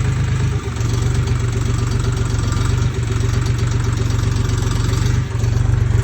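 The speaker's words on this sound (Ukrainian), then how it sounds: "Все, двигун працює, пускає щеплення, трактор стоїть, звісно, на місці." A new Lovol 244 tractor with a KM 385 BT diesel engine idles while standing still, a steady, loud low rumble with a continuous even rhythm and slight dips, no talking.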